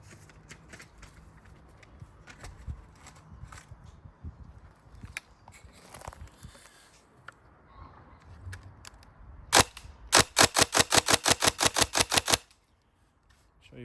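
A Tokyo Marui 417 NGRS airsoft rifle firing, with scattered clicks and handling noises, then a lone sharp shot followed by a fast, loud burst of about a dozen evenly spaced snapping shots that ends abruptly.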